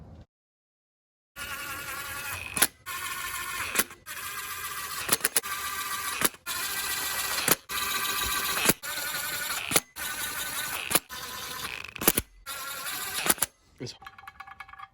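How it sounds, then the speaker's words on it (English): Bolts being tightened on an AWD Honda del Sol engine with a power tool, heard as a run of loud, dense, buzzing bursts of a second or so each, separated by brief gaps and ending in lighter ratcheting. "cue 10-second long cuts to me tightening these down, snugging them down."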